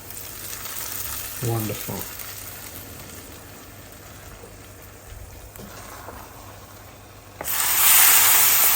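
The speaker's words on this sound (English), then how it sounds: "Now the tadka goes in." Hot tadka tempering is poured into a pot of simmering lentil dal, giving a sudden loud hiss and sizzle that swells near the end, after a quieter stretch with a brief spoken word.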